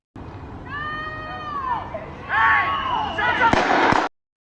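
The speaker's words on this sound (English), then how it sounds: "there's the gunfire already" Sharp gunshots crack near the end of a played recording, following tonal sweeping sounds, with a voice talking underneath.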